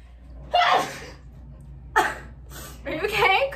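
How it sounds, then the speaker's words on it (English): Sneezes from a person, loud and near, heard as three separate bursts with sharp onsets and breathy releases, the last one longer. "I spit everywhere when I sneeze"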